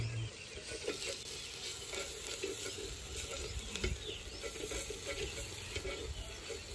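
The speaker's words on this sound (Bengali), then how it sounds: "আদা রসুন আর লঙ্কা বাটা দিয়ে মশলা কষাতে থাকো" Onion, ginger, garlic and chilli paste with garam masala sautés gently in a clay pot, a quiet continuous low sizzle with soft intermittent stirring scrapes.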